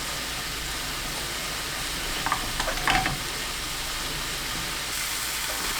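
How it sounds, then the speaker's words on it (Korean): A seasoning sauce bubbles and sizzles steadily in a pan pushed beside onion and carrot, with a constant close frying hiss and a few brief clinks of stirring. "한쪽으로 재료를 몰아두고 빈 곳에 양념을 부어서 끓입니다"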